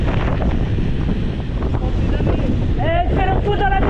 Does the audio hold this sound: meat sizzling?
no